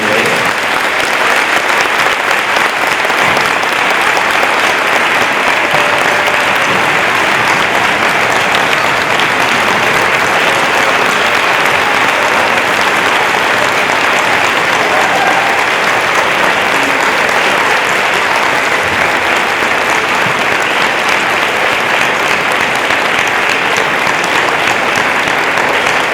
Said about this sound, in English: Ladies and gentlemen, one more round of applause for all of our veterans and active military.